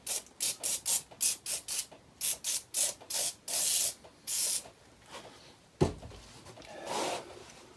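Repeated short bursts of spray as degreaser is applied to the disassembled engine parts of a 1991 Lotus Esprit, about a dozen quick hissing squirts in rhythm followed by a couple of longer sprays and a faint clunk, close and alone.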